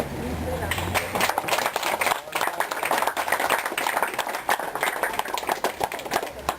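An audience at a tennis club league gathering claps together, a steady dense round of applause sustained for several seconds with faint voices beneath.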